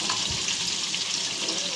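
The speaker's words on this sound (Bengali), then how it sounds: "তো ফুলকপি আর মুরগির মাংসটা একটু তেলে ভেজে নিব" Cauliflower and chicken pieces frying in oil make a steady, dense sizzle that holds constant and close throughout, with no voices.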